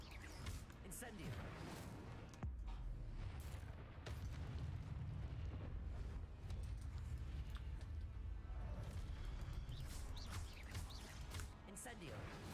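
An Incendio fire spell is cast in the PC game Hogwarts Legacy, a loud, sustained burst of booming, roaring fire-blast noise that fills several seconds of battle, with a voice talking over it.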